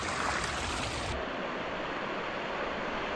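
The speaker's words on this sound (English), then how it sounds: "Some pretty creek walking." Steady rushing water from a forest creek tributary in Gifford Pinchot National Forest, a continuous close wash of flow with no voices.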